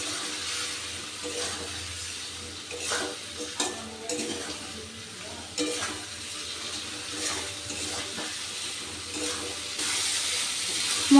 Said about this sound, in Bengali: এবার মশলাগুলোকে আমি খুব ভালো করে কষিয়ে নেব।